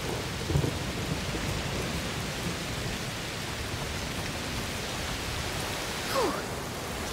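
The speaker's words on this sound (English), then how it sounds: "Must be a heat storm." A heat storm in the video game A Plague Tale Requiem: steady heavy rain hisses over everything while low thunder rumbles in the distance, with a brief sharper crackle near the end.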